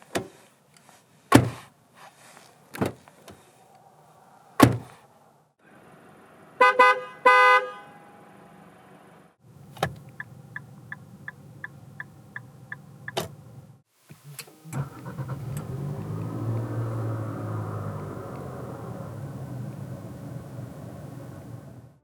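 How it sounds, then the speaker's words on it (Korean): An Infiniti QX50 AWD gives several sharp door and lock clunks and a run of short electronic chirps. Its engine then starts and settles into a steady low idle rumble for the last several seconds. "그럼 QX50이 들려주는 소리를 들어볼까요?"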